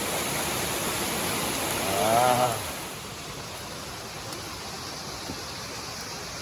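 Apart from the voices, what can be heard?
waterfall rushing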